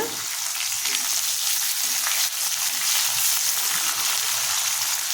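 Chopped onion sizzling steadily in hot oil with a tempering of urad dal and cumin, a loud continuous frying hiss with faint stirring touches, no talk.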